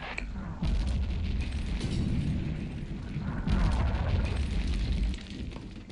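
Airstrike explosions rumble through Return to Castle Wolfenstein, a dense, sustained roar of overlapping booms and blasts lasting several seconds before easing off, loud and without talk.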